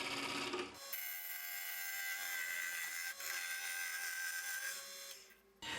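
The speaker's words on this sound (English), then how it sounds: "I did all the roughing with my bowl gouge" A bowl gouge roughs out wood on a spinning lathe with a steady, close, hissing scrape. The cut breaks briefly near the start and again midway, then fades at the end.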